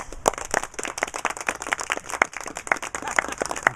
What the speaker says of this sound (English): giving me a round of applause and for a lovely speech